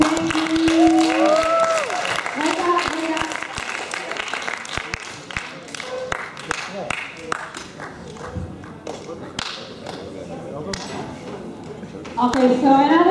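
An audience at a presentation session claps in scattered, uneven bursts that thin into separate individual claps, with people talking over it at the start and again near the end.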